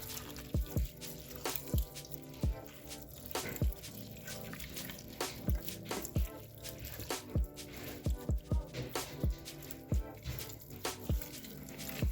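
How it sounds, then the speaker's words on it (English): Water splashes and trickles into a pot while cooking a bean curry, a continuous wet pouring with frequent drips and small splashes, close and steady with no talking. "I think I'm gonna add"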